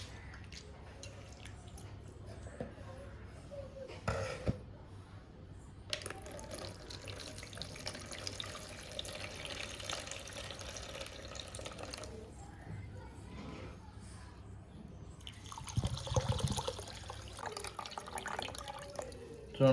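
Soaked rice washed under running tap water in a sink, a close, continuous gush and splash that stops and restarts in bursts, with a voice faintly in the background at times.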